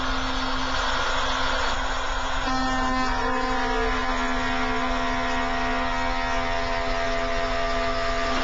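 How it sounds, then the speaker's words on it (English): A router with a solid carbide spiral upcut bit cuts the cheek of a tenon on a horizontal router table, a steady close high-pitched motor whine with a slight change in tone as the cut proceeds. "The solid carbide spiral upcut bit does a great job cutting the cheek of the tenon."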